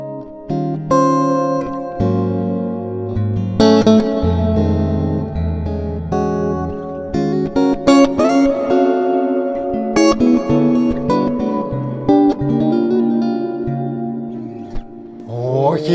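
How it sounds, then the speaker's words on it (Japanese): Clean electric guitar recorded direct through a Zoom multi-effects stomp set to a dual reverb patch, playing loud chords and single notes with long, spacious tails ringing on for about sixteen seconds, with no voices. "デュアルリバーブ鳴らしましょうか"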